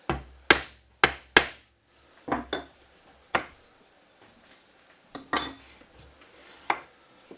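Sharp chisel strikes chopping waste wood from a mash paddle blank, about ten crisp knocks in uneven bursts with brief pauses, close and fairly loud with no talk.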